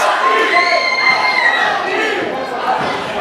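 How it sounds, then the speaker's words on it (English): A loud, close wrestling crowd roars and cheers continuously at a pro-wrestling match, with shouting voices blending into a steady wall of noise. "You hear this crowd though?"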